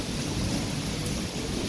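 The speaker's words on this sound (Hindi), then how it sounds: "लो जी ऐसी बारिश हो रही है," Heavy rain in Sialkot, Pakistan, pours in a dense, steady hiss, with a deep rumble underneath and no voices.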